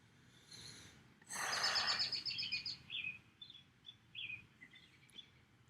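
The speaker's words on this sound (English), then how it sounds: "hear these birds?" Wild birds call close by, starting with a loud burst of chirps and then sending out a string of short, scattered tweets and calls over a quiet background.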